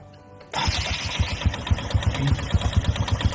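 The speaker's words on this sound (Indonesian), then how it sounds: "Kondisi putaran mesin pelan atau masih langsam." A motorcycle with an automatic clutch catches and settles into a slow idle, a steady low chugging pulse with evenly spaced beats, close and loud after a brief quiet start.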